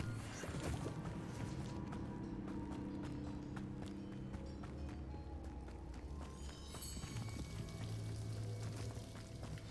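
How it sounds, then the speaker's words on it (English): A waterfall in the video game Hogwarts Legacy rushes in a constant, dense wash of falling water, with faint splashes and clatters layered in the roar. "The waterfall."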